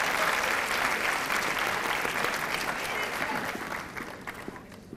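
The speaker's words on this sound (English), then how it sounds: "Let's give these a round of applause." Audience applause at a high school senior awards ceremony: steady clapping that fades gradually into scattered, thinning claps, with faint voices underneath.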